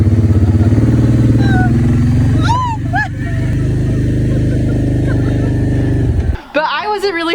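Four-wheeler ATV engine running steadily and fairly close for several seconds, a droning motor note under voices and laughter, cutting off abruptly near the end.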